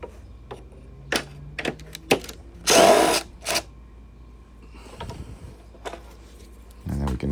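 A power drill whirs in short bursts on the wheel bolts of a Toro 22-inch Recycler mower, with one longer, louder run, scattered clicks and knocks, and a voice speaking between bursts.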